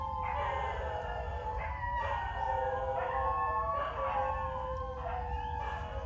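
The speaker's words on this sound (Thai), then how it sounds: "บรรยากาศมาหอนครับในป่าไผ่ครับ" Long, wavering howls carry through a Taiwanese bamboo forest during bamboo-shoot gathering after rain. The overlapping cries rise and fall continuously over a steady background hum, with no talk.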